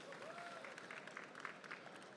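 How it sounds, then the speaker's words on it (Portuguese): Audience applause at a banking technology conference panel, a short burst of many hands clapping at a moderate distance in a large hall, fairly faint. "Salva de palmas."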